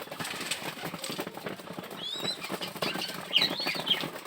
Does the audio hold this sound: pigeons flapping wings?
yes